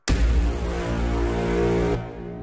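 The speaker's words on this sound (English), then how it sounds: "check out this war horn I added to the" A pitched-up Cashmere War Horn 13 synth sample added to a track's drop, a loud sustained brassy horn tone holding steadily for about two seconds before cutting off into a quieter lingering tail.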